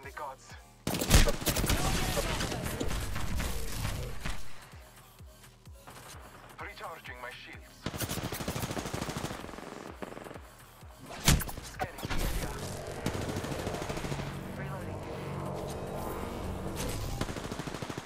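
Bursts of automatic gunfire from an online battle royale shooter match, loud and repeated in dense volleys with short gaps, under occasional talk.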